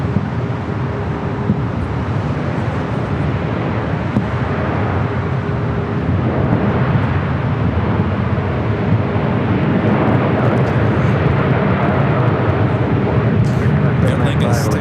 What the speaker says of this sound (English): This A380 Super lined up,